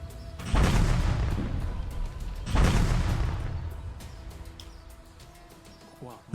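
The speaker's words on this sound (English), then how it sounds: "So I can then fire the mortar onto the enemy's fortifications." Mortar firing in the strategy game Rattenreich: two heavy booming launches a couple of seconds apart, each swelling loudly and fading into a rumbling tail, with someone talking over them.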